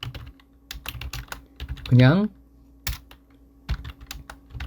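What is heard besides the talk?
typing on a computer keyboard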